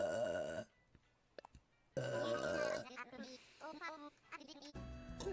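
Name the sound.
burping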